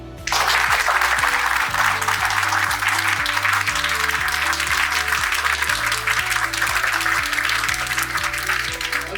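Audience at a training session claps loudly and continuously in a large room while a steady rhythmic bass-heavy music beat plays underneath.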